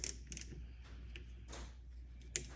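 A 1/4 inch drive ratchet works loose a wheel hub on a Pinto during a 4-to-5 lug conversion, giving faint, sparse mechanical clicks and short ratcheting bursts at the start and near the end over a quiet background.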